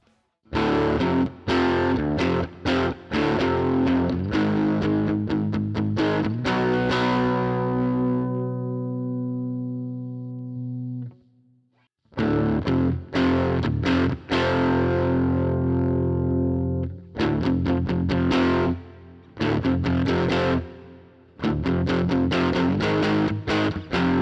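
A distorted electric guitar played through a Fractal Audio Axe FX cab block chugs in loud, tight palm-muted bursts, with one long sustained chord ringing out midway before the choppy riffing returns.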